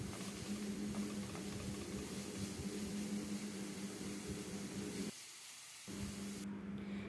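Grated carrot shreds frying in a pan for a flour, egg and potato snack, giving a steady, loud broadband sizzle that holds continuously, with one brief drop in intensity near the end.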